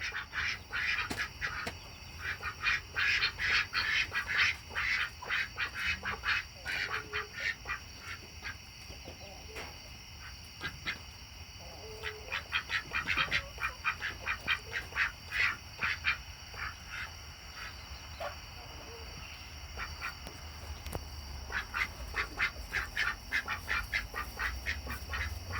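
Ducks quacking at night after a rainy day, several birds calling in bursts of rapid overlapping quacks close by, with quieter gaps between the flurries.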